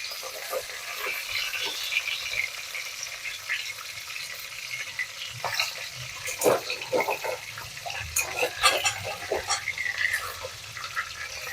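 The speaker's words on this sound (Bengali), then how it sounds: "মাছগুলো দেখো এবার ভাজা হয়ে গেছে, এগুলো আমি উঠিয়ে নেব।" Magur catfish pieces frying in oil, a soft, fairly faint crackle with scattered pops and a few clinks, growing livelier toward the end.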